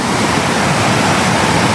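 A rushing torrent of water across a mountain footpath on the Kuruwita route to Sri Pada roars as a loud, dense, unbroken wash of noise, close and steady throughout, with no voices.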